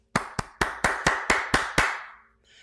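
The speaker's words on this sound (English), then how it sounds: "Let's go ahead and give a really quick round of applause to those individuals." Seven sharp, evenly spaced claps ring out close by at a university welcome event, each with a short decaying tail, with no voices.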